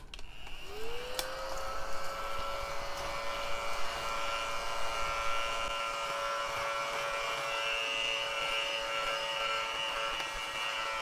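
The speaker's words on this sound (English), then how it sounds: "I'm going to vacuum up my keyboard really quickly. I got this really cool like desktop vacuum" A small desktop vacuum cleans a keyboard, starting with a rising whine that settles into a steady, close electric hum lasting about ten seconds with no talking.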